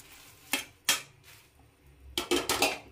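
Roasted dry chillies, curry leaves and tamarind are scraped from a pan onto a plate: sharp metallic scrapes and clinks, two separate strokes, then a quick cluster of rattling scrapes, close and fairly quiet.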